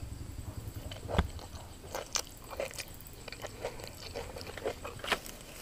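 Close, quiet chewing and biting while eating bamboo shoot soup with sticky rice and fresh vegetables such as bitter gourd, soft crunches and wet mouth sounds recurring irregularly in a calm setting without talk.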